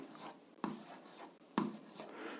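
Two quick chalk strokes on a board, scratchy and close, with faint room tone between them.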